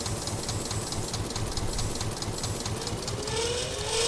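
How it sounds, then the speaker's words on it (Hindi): An Eicher 241 tractor engine in Farming Simulator 22 chugs steadily with a rhythmic mechanical knock, a constant mid-level drone throughout, with a rising whine near the end. "और अब तो आयसर एकदम बढ़िया खींच रहा है यार।"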